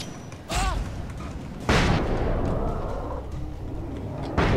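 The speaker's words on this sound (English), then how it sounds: "Okay, another flashbang." A flashbang grenade goes off in the Alan Wake game as a sharp loud bang, followed by a second burst about a second later, then a lingering ringing rumble and another hit near the end.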